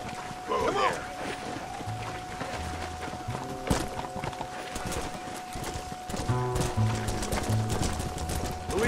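Horse hooves clop while riding in Red Dead Redemption, with rhythmic hoofbeats under game music and spoken dialogue.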